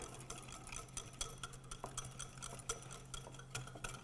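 Whisk beating a baking soda and tartaric acid egg substitute in a bowl, quick irregular ticking strokes repeating steadily, fairly quiet and close, over a low steady hum, no talking.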